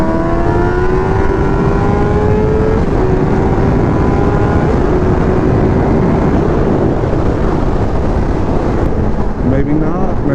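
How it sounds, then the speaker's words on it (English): A Ford Mustang engine revs loudly and steadily close by, its rising and falling harmonic tones sweeping up and down over a continuous roar for about ten seconds. "Maybe this Mustang wants to play around a little bit."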